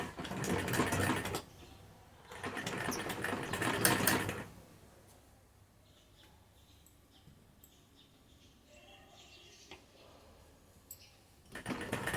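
An electric sewing machine stitches along the neck edge of a kurti in two close, steady whirring bursts of a few seconds each, with a quiet pause between them and a short burst starting again at the end.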